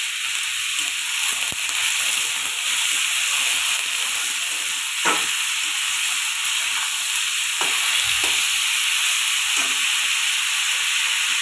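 A fish head fries in a salted pan with a steady, loud sizzle and hiss running without a break, plus a few soft clicks of stirring.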